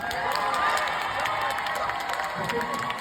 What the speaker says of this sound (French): dès qu'on dit le nom Dorothée, il y a les applaudissements immédiatement